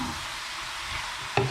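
Sponge gourd sautéing with tomato in a pan gives a steady soft sizzle, with one brief scrape of a spoon stirring near the end.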